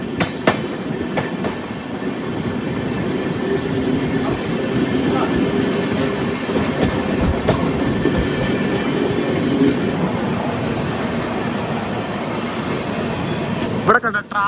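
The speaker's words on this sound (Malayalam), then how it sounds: "നമ്മുടെ ട്രെയിൻ വളരെ പയ്യെ പോകുന്നത്" A passenger express train in India rolls slowly along the tracks, its steady rumble and soft wheel clicks filling the clip, with a few sharper clanks near the end.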